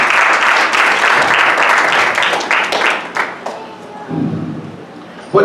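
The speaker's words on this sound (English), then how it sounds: "clap your hands for Jesus." Church congregation clapping during a worship service, a dense burst of applause that is loud at first and then thins out into scattered claps.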